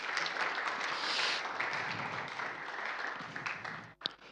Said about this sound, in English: Can we just give Alan a big round of applause?